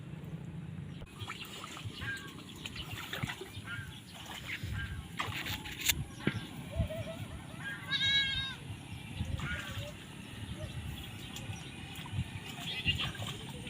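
Goats bleating at moderate distance, several wavering calls over an outdoor background, with people talking nearby.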